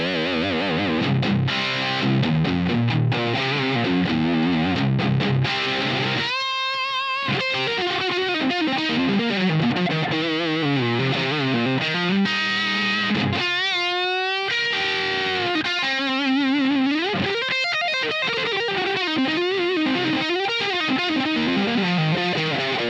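An electric guitar tuned to drop C plays heavy, distorted riffs through a Line 6 Helix Doom amp model, with thick sustained chords and sliding bent notes running continuously and loud, no voices present.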